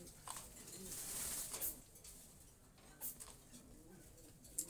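Fancy pigeons, including a pair of Jacobins, coo softly and intermittently from nearby loft cages in a quiet setting, with a few faint rustles in between.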